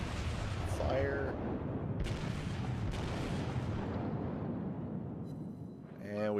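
Heavy naval main-gun salvos boom from a battleship in the World of Warships video game, dense rumbling blasts layered over constant ship and battle noise, with a closing swell near the end.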